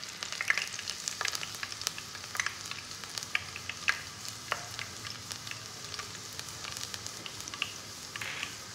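Finely chopped desi garlic fries in hot ghee for Sarson ka saag, giving a steady, moderate sizzle with scattered crackling pops and spits throughout, no voices.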